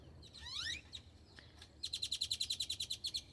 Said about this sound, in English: I hear the birds too